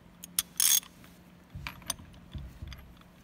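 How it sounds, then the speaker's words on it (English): A 21 mm socket on a ratchet loosens the steering wheel nut of a 1985 Chevrolet Caprice Classic, giving close metallic clicks and one louder, longer rattling burst among a few softer taps, with no talking. "this is a 21 millimeter socket, fits okay, and we'll take that off"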